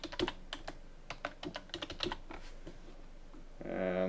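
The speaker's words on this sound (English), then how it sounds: "we're gonna type in admin" A password is typed on a computer keyboard, a burst of quick, light key clicks in an uneven rhythm, close and fairly quiet, followed by a louder hum at the end.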